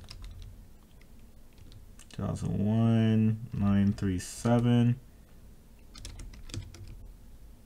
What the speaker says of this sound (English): I'm just gonna type it out